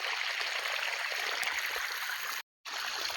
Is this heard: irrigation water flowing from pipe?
yes